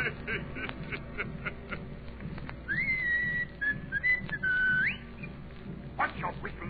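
A man whistles a wavering, sliding tune from about the third to the fifth second, set within a dramatic opera performance of The Emperor Jones with orchestra and background sound beneath.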